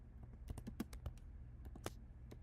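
Fingers type on a computer keyboard in a quiet room, a quick irregular run of soft, close key clicks with no voices.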